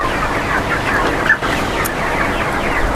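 Broiler chickens on a poultry farm in Brahmanbaria cluck and murmur as a dense, steady flock noise filling the space, loud and continuous throughout.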